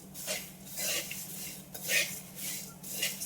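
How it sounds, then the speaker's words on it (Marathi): Roasted poha being sautéed with salt in a pan over a low flame: a spoon scrapes and clinks against the metal in several short, uneven strokes, close and moderately loud, with no voices. "मीठ टाकून घेऊ आणि छान याला आता परतून घेऊ"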